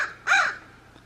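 A rescued crow gives a single loud, close caw lasting about a quarter second, with quiet background before and after.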